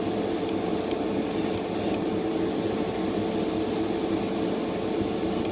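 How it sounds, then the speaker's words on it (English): A steady hiss of an aerosol primer spray can coating a plastic Gundam model part, continuous and close, with a few brief breaks near the start. "Now you'll note I'm spraying inside the part here."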